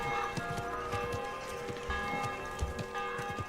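Horse hooves clip-clopping in Kingdom Come Deliverance 2, a steady walking rhythm of hoof strikes on a town street, moderately close under a layer of tonal game music.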